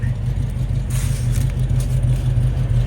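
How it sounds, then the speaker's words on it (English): A 1974 Chevrolet Camaro Z28 350 idles with a steady low rumble through its dual exhaust, smooth and moderately loud throughout. "The dual exhaust sounds great, not too loud, not too quiet."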